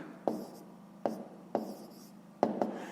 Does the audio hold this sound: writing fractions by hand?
yes